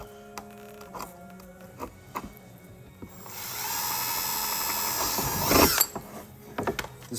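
A power drill drilling a hole in a Duramax truck to mount a rock light, a steady whirring run of about two and a half seconds between scattered clicks and handling knocks.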